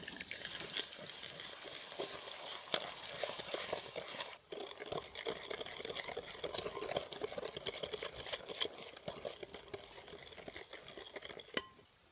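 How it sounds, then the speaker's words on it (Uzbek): Eggs and sugar are mixed for cake batter, a faint continuous whisking and scraping against a bowl with occasional sharper knocks, heard alone at low level. "Bunu da yaxşı aralashtiramiz"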